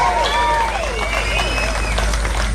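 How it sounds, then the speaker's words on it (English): A crowd at an Australia Day rally cheers and claps steadily as one dense wall of noise. Shouts and whistles rise above it, over a constant low rumble from the outdoor gathering. "Give yourselves another cheer."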